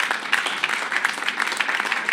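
A crowd applauds with continuous dense clapping, steady and fairly loud, no voices on top.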